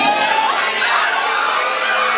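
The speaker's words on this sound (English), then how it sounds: "The crowd is erupting here." A large crowd cheers and shouts at once, a loud, continuous roar of voices with whoops rising through it, sustained from start to finish.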